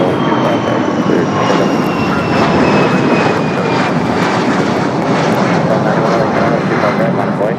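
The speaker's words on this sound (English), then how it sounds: "Frontier flight head coming in from Phoenix." A Frontier jet airliner arriving at LAX, a loud steady engine roar with a slowly falling whine, heard close throughout under air traffic radio talk.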